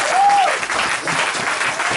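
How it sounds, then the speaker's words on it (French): A church congregation at a French-language tabernacle service bursts into sustained applause, a dense, even wash of many hands clapping at once, loud and close, with a brief tonal squeak near the start. "Donnons une acclamation."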